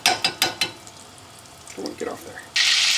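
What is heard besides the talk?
sage frying in butter and oil in a pan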